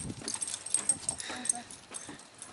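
A dog barks outdoors in memorial gardens beside marshland and grassy areas in Little River, South Carolina. The barks are short and scattered, mixed with rustling outdoor noise, and a person's voice can be heard.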